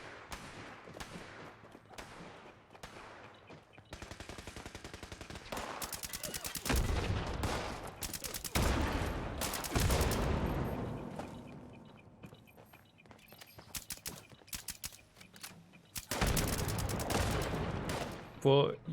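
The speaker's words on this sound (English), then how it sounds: "you have the advantage of using a Gatling gun" Gatling gun fire in the video game Fallout 76, heavy bursts of rapid gunfire arriving in several loud stretches with quieter gaps between them, mixed with footsteps and other game sounds and no talk over it.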